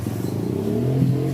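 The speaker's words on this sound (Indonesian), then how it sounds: "Saya ada motor lewat." A motorcycle passes nearby with a steady mid-pitched engine drone that swells slightly and holds, fairly loud and continuous, with no speech over it.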